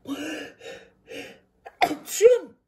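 A short build-up of breathy vocal sounds, then a sharp, loud sneeze burst, close to the microphone.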